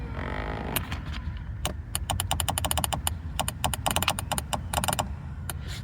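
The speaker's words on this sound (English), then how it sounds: "I can totally hear some clicking." A faulty power seat switch in a 2005–2009 Dodge Magnum clicks rapidly and irregularly, sharp close-up taps arriving in quick bursts and scattered singles over a low background hum.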